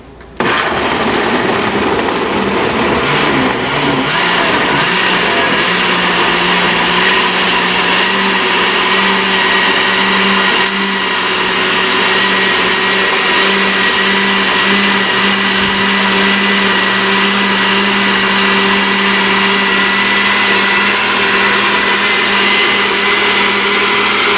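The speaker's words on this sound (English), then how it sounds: "Put my ginger on top of the blender, and I'm gonna get to work." A blender blending ginger runs loud and steady for the whole stretch, its motor roaring continuously without pause.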